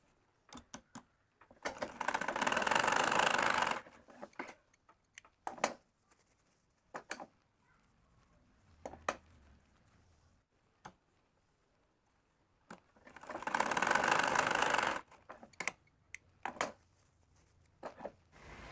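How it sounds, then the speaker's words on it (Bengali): A sewing machine stitches the two folded ends of a bra band in two loud, sustained bursts of motor whir, each a few seconds long, with short clicks and handling knocks between them and no talk. "তো এই যে আমরা বেল ভাঁজ করে নিয়েছি, 2 মাথা আগে সেলাই করে নিচ্ছি।"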